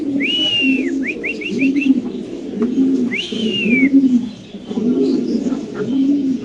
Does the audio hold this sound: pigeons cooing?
yes